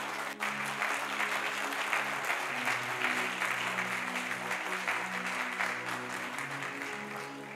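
A church congregation applauds in dense, sustained clapping from many hands, with a sustained musical tone underneath.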